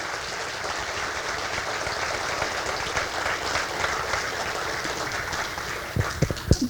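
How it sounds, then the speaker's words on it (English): An audience applauds a junior elementary drama club at a Saturday afternoon show, a steady, dense clapping that fills the room throughout and ends in a few louder, sharper claps near the close. "Let's give them another round of applause."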